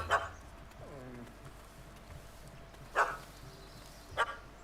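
A puppy barks in The Witcher 3: Wild Hunt, three sharp, separate barks spaced a second or more apart, with a brief whining tone and quiet background ambience between them.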